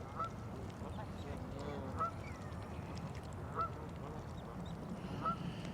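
Geese honk beside a frozen, icy pond, with a few brief calls spaced a second or two apart, faint and somewhat distant over a low rumbling outdoor background.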